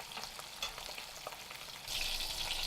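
Fish shallow frying in oil in a pot sizzles and crackles steadily, with small spatters and a brief stir, the sizzle swelling louder and brighter near the end; no voices.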